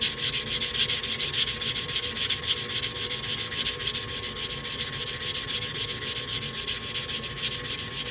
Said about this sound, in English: hit this edge right here with a filing block. Just kind of smooth it out a little bit.